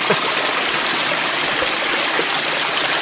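Cold mountain stream water flows steadily into a bottle in the Polar Urals, a loud, continuous close-up rush and gurgle with no pauses.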